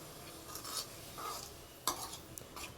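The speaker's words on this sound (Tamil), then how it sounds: "ஆனியன் நல்லா வதங்கி கலர் சேஞ்ச் ஆனதும் அரைச்சி வச்சுருக்க விழுதை சேர்த்து நல்லா மிக்ஸ் பண்ணிக்கலாம்" A spoon stirs sautéed onion and ground paste for drumstick thokku in a pan, with soft, faint scraping and light sizzle, plus a sharper clink near the end.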